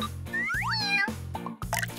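A cat meows several times in a row, close and clear, with rising and falling drawn-out cries over a steady low hum.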